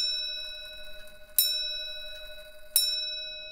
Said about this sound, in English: The sound of a clock can bring instant memories.